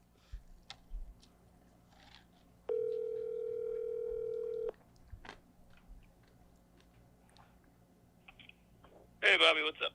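A steady telephone dial tone sounds alone for about two seconds during a call to the Comedy Store, surrounded by faint clicks and handling noise, with a short burst of static near the end.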